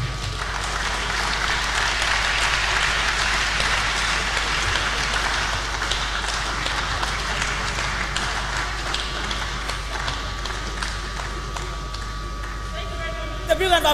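Lecture audience applauding a guest speaker at an annual reunion public lecture, steady dense clapping that fills the room and continues evenly before tapering near the end, with a constant low hum beneath.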